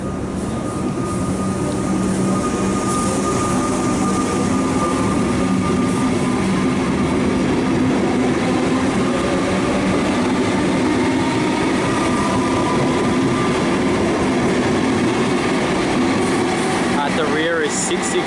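A suburban train pulls away from the new Glenroy Station in Melbourne, a loud, steady rumble of wheels and motors that continues throughout, with a voice speaking over it.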